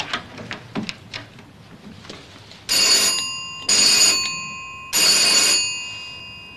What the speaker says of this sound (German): Es läutet gerade an der Tür.